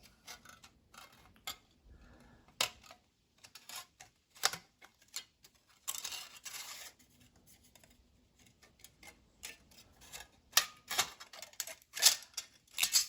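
Scissors cut along a scored line while making a model railway steel coil load in a kitchen, giving quiet, irregular snips and clicks with pauses between them.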